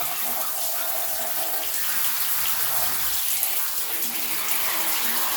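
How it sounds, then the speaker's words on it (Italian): Tap water runs in a steady broadband rush with no pauses, feeding a hose fitting being tested on pots, close to the microphone and without voices over it. "Apriamo l'acqua, guardate come muove."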